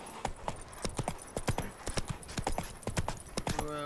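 Roach, Geralt's horse in The Witcher 3: Wild Hunt, trots in a quick, even clip-clop of hooves, crisp and close, with a soft snort at the end and no talking.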